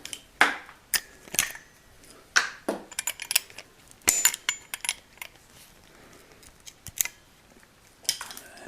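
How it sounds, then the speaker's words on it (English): Partly cut pieces of material snapped off by hand during clutch work on a 1973 Honda CB750 custom build, a run of sharp, close cracks and clicks with quiet gaps, some in quick clusters. "So we'll break those pieces off."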